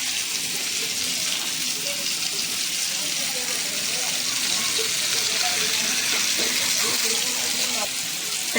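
Bangda mackerel frying in a pan for a Malvani Sunday thali, a steady broadband sizzle with faint scraping and turning noises, a voice talking quietly over it.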